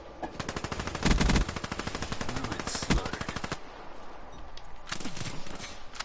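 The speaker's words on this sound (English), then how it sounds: "best assault rifle in the game." Fully automatic fire from a KM44 assault rifle in a video game, fast rhythmic bursts of close, loud shots that stop and restart, with brief voices heard under and between the bursts.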